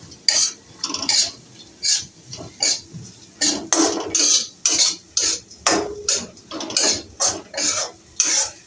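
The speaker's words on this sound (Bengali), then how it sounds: "আবার তেলে এভাবে ভেজেও তুলতে পারেন" Chopped nuts being fried in a tablespoon of oil in a pan at home, stirred with a metal utensil, giving repeated rhythmic scraping and clinking strokes over a faint background sizzle, close and fairly loud.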